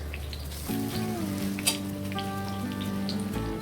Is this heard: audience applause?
no